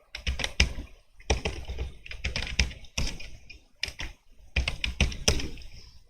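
Rapid bursts of clicky keystrokes on a computer keyboard as a password is entered to log in, with short pauses between groups of taps, close and clear with no talking.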